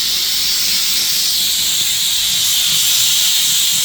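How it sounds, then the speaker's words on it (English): Steam cleaner sanitizing a bathroom in a newly built house, giving a loud, continuous, bright hiss that holds steady from start to finish. "We are steaming and sanitizing the bathroom."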